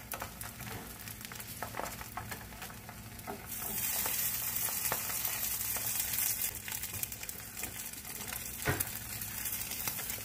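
Egg frying in a waffle maker, a steady close sizzle and crackle that grows louder and denser partway through, with a few faint clicks.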